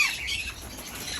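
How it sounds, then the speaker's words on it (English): Birds squawking outdoors, a short burst of harsh calls and chirps at moderate distance with faint background noise. "This is all the birds."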